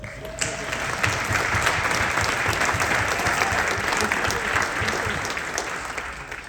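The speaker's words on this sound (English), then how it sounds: "So I want to give him a round of applause." Audience applause at a small-town chamber of commerce holiday gala and awards night: a full, sustained round of clapping from a crowd in a banquet room, loud and even throughout with no talk.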